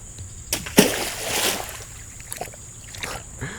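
A big rock thrown into water in the woods lands with one sharp, fairly close splash, followed by a short washy spray and quiet outdoor ambience with a few faint later drips.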